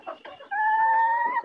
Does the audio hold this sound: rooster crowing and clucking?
yes